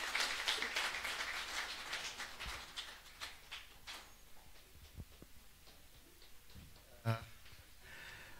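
A church crowd at a Peace Caravan gathering in Nairobi applauds Apostle Ndura Waruinge, a burst of scattered claps that thins out and fades, followed by a lone sharp knock near the end.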